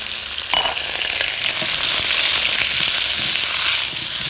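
Zucchini and chickpeas sizzle and fry in a hot pan, a steady crackling hiss with a brief stir or clatter near the start and no speech.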